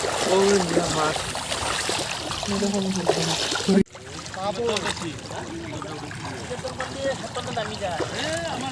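Floodwater rushes through a village in a strong current, a steady close wash and trickle that runs throughout. Someone talks over the flow, and a sharp knock briefly interrupts it partway through.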